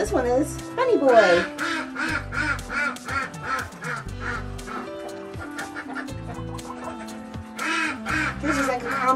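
Muscovy duck being handled for wing clipping, with repeated raspy calls over steady background noise and a person talking throughout.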